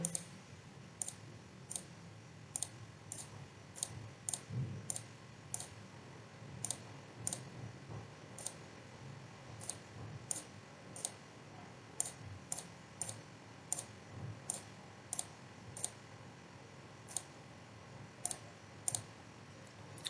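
Computer mouse clicks while drawing with the line tool in Fusion 360 CAD software, sharp isolated clicks repeating at an irregular pace across the whole stretch over a quiet background with faint room noise.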